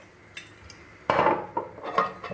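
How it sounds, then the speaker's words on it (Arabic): A mixture stirred with a spoon in a bowl with salt and a big spoonful of oil added, close clinking and scraping scrapes that grow louder after a quiet start. "نحاول نخلط هذا الشيء مزيان"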